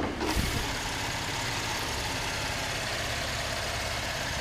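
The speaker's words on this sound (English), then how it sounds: "And you got your six cylinders. They're nice and smooth, strong, but still good on gas." A 2012 Chevy Impala's six-cylinder engine idling under the open hood, a smooth, even mechanical rumble that settles in after a brief bump at the start and runs steady and close.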